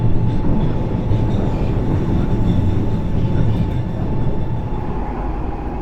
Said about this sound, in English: As we approach Bank Station, the DLR dives down underground into a tunnel.